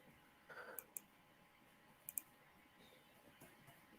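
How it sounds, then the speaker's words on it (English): Quiet, scattered clicks of typing on a computer keyboard, a few sharp keystrokes spread unevenly over faint background hiss, with no talking. "I'm typing it right now"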